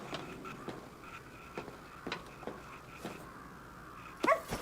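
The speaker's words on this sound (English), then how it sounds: "That's a dog." A dog in the video game Ghostwire: Tokyo gives a run of short, fairly faint barks and yips at a regular pace, ending in a louder, sharper burst.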